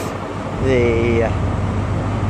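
A Class 43 HST power car departs Darlington station on the East Coast Main Line with a Virgin Trains East Coast service, its diesel drone swelling and holding steady close by, with a brief spoken word over it.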